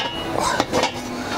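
A small 3-litre cast iron kazan cauldron being handled among cookware, giving a couple of brief metallic clinks and knocks close by over low room noise.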